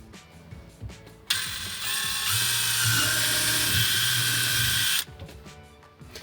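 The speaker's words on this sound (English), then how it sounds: "let's go ahead and drill that hole for the saddle drain" Power drill boring a hole into a plastic sink drain pipe under a kitchen sink for a reverse osmosis saddle drain, a loud whining buzz that starts abruptly, holds for several seconds and cuts off, with quieter handling noises before and after.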